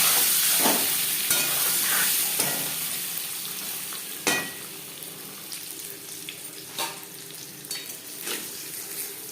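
Eggs fry in oil in a pan with turmeric, a continuous sizzle broken by sharp scrapes and taps as they are turned, close and moderately loud.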